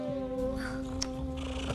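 A cat meows and purrs in a cat treats TV advert, a soft purr with a brief higher meow over a steady background tone, and no one speaks.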